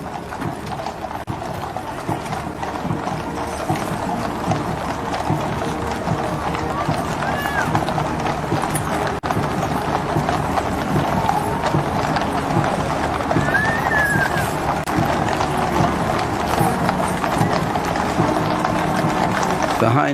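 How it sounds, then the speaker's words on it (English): Household Cavalry horses walk slowly in a state funeral procession, their hooves clip-clopping steadily on the road amid continuous crowd and ambient noise, with an occasional whinny and a commentator talking over it. "Some of the horses, understandably a little restless at this long, slow walk"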